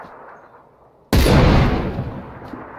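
A single loud video game gunshot bursts in after a quiet stretch, a heavy close blast with a long rumbling decay.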